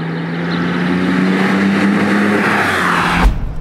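A Porsche 911 996 Turbo pulls hard on boost, its engine note holding a loud, steady drone that builds for about three seconds before a sharp cut as the throttle lifts.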